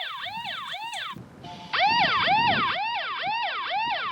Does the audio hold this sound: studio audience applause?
no